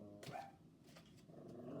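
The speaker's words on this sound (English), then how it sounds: "they don't normally bark, but it's when I'm in here" Dogs barking indoors, a few sharp barks with growling between them, fairly close but quiet overall, with no speech.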